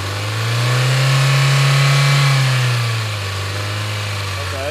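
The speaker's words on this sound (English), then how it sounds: "when you rev it up slow like this," A 2001 Hyundai Elantra engine revved up slowly from idle, the pitch rising smoothly, holding for about a second, then sinking back toward idle; close and steady, with no talk.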